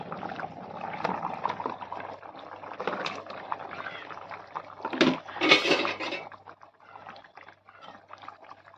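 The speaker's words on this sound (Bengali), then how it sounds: "দেখো জল কিন্তু ভালো করে ফুটে গেছে" Water at a full boil in a covered cooking pot, ready for fried fish in a fish-and-yam dish: a steady bubbling, churning wash with a louder surge of bubbling midway, close up and with no talk.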